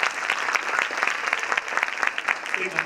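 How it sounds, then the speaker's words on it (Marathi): An audience at a school annual day function applauds with a steady, lively patter of many hands, and a few individual claps stand out near the front. "एकदा जोरदार आपण त्याच्यासाठी टाळ्या वाजवूया"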